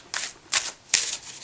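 A brand-new deck of playing cards is shuffled in three quick riffling bursts, crisp close-up fluttering rasps with short gaps between.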